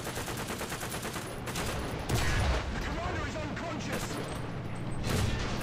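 Battle gunfire in War Thunder as enemy M3 tanks return fire, with repeated cannon and machine-gun bursts over a constant engine rumble, mid-distance and fairly busy, while someone talks over it.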